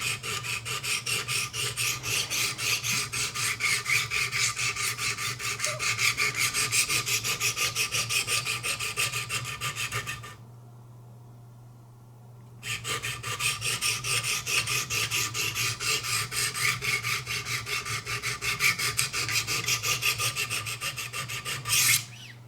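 A Benchmade 725 Kodiak Skinner knife blade is rasped against a sharpening surface in rapid, steady strokes, loud and close, stopping briefly for a couple of seconds before resuming.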